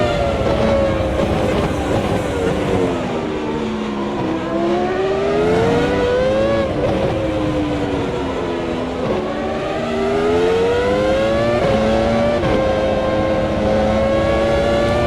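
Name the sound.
Formula One car engine accelerating in a racing video game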